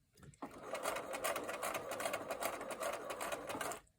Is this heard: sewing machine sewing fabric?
yes